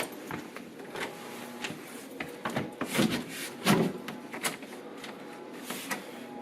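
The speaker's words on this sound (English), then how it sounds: "So I've got to somehow get this door in here." A door being forced into its frame during installation, with repeated wooden knocks, scrapes and thumps at close range, a heavier jolt in the middle, and no talking.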